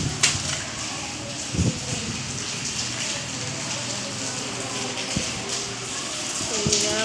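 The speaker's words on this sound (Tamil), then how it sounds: "மழை" Heavy rain pours steadily onto a wet doorstep and yard with young banana plants, a dense continuous hiss with occasional louder splashes and drips, while a person talks intermittently over it.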